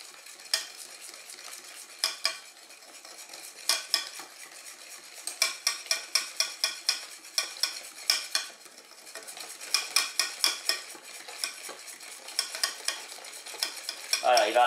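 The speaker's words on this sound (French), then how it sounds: "on essaye ce coup-ci de mettre le lait en remuant tout le temps" A spoon or whisk stirs milk into vanilla magic cake batter in a bowl, giving repeated scraping clinks in quick bursts with short pauses, close and moderately loud, no talking.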